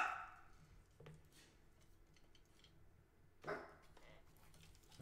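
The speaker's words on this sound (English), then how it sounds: "You can hear Bear barking in the background" A dog named Bear barks in the background, two short, distant yelps about three seconds apart over a quiet room tone, with nothing else much happening.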